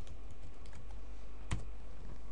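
Computer keyboard typing of a command in CorelCAD, a run of quick, light key clicks ending in one louder key press, no voice.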